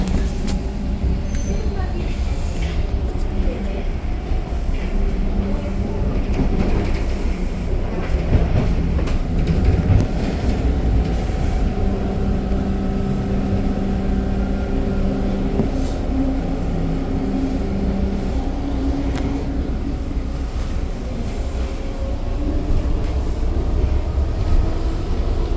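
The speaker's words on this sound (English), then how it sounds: "Here comes the train, going to Kipling Station." A Toronto TTC subway train on Line 2 heading for Kipling Station rumbles steadily on its rails with a low roar and faint clicks. The noise holds loud and continuous throughout, with a few voices talking faintly beneath it.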